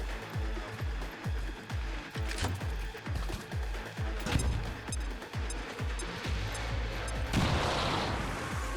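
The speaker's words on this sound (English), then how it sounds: "Frag out!" A frag grenade explodes amid gunfire in the video game XCOM 2, with rapid repeated shots in a steady rhythm, a sharper blast partway through and a denser burst near the end.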